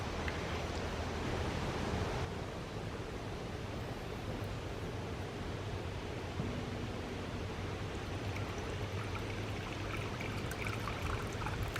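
Water pours steadily into a half-full container holding a submerged pump, a continuous broadband rush with a slight change in tone partway through and no talking.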